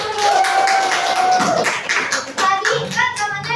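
A classroom group clapping hands together, a run of quick, uneven claps and taps close by, mixed with some voices talking.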